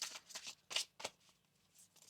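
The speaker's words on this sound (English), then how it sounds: "One more shuffle here." A tarot deck is shuffled up close and quietly, giving a quick run of soft, papery riffling bursts in an uneven rhythm.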